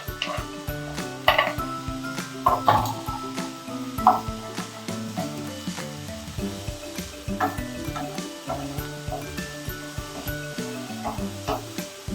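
Chopped coriander and curry leaves frying in hot oil as a tadka for cauliflower pakoras, a close continuous sizzle broken by utensil clinks and scrapes against the pan, with no talking.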